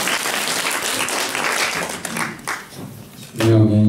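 An audience applauds at the premiere of the film "30 свиданий": dense, loud, sustained clapping from many hands that thins briefly, then ends as a voice begins speaking.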